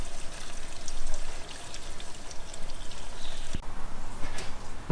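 Ten litres of fuel gushing from a container into the tank of a Mazda 929, a steady, close, gurgling pour with slight fluctuations and a faint splash, no talking.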